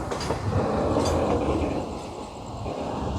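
A passenger train on the Howrah–Secunderabad route rumbles into Vijayawada Junction, heard from on board as a continuous loud roll of wheels on track with faint clicking and no talking.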